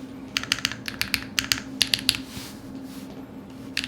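Typing on a Neson Z1 mechanical keyboard with Key Xera switches and Kikobo Boundless Jataka keycaps gives quick bursts of crisp clacky keystrokes at close range, then a short pause and a final tap, over a faint steady hum.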